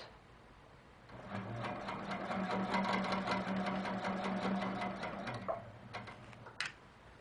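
A sewing machine stitches across a quilt block in one steady run of rapid close whirring, then stops, followed by a few small clicks.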